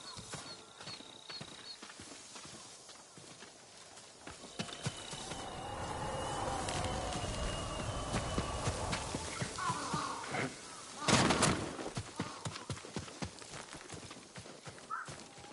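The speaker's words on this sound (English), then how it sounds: "I want to look at his horse." Horse hooves clip-clopping on the ground in the Ghost of Tsushima video game, a farm horse at the stables of Tsushima, steady and fairly close, with a brief louder burst near the end.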